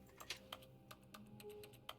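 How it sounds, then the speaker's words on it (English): Interaction button clicks in The Stanley Parable video game, a series of sharp, keyboard-like taps spaced irregularly over a quiet room tone, with no talking. "I just said that interaction button sounds like the keyboard clicking."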